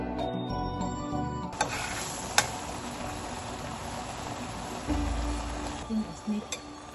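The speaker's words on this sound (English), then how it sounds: "Stir it." Crab curry is stirred in a pot, with faint metallic clinks and scrapes of a utensil against the pot over a steady background hum and a few soft thumps.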